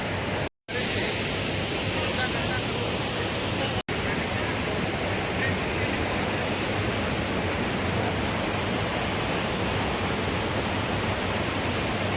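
Clean river water flows in a continuous broadband rush, steady and fairly loud throughout with no clear breaks except one brief dropout near the start.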